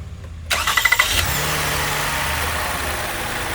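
A 2019 Toyota Sienna engine cranks with a quick burst of rapid starter chugs, then catches and settles into a steady, fairly loud idle hum.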